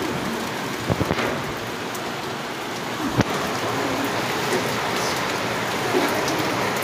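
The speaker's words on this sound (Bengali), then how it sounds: "ফাইনালি বৃষ্টি হচ্ছে, একটু ঘুমাতে পারবো" Steady rain falls across a rooftop terrace, a dense continuous hiss with a few louder drips and taps, including a sharp knock near the middle, and no voices.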